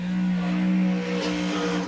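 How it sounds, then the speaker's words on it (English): A dragster roars through a big burnout at a bracket-racing drag strip, a loud, steady engine drone that swells and eases slightly over two seconds, heard from trackside. "FTI dragster, big old burnout"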